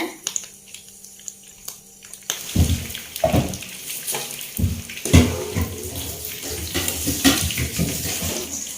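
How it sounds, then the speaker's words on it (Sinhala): Kathurumurunga leaves deep frying in hot oil, a crackling, spattering sizzle with sharp pops bursting irregularly and close by, growing busier after a quieter start. "අපි මේ බැද ගන්නකොට මේ වටේම මේ කොළ පුපුරන හින්දා තෙල් විසික් වෙලා තියෙන්නේ"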